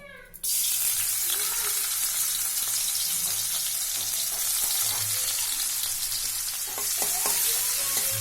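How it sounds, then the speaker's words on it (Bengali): Chopped ginger and garlic drop into hot oil in a wok and burst into a loud, close, sustained sizzle, with occasional clinks and stirring scrapes and no one speaking. "এখন কড়ার তেলের মধ্যে আমি আদা রসুনটা দিয়ে দিচ্ছি"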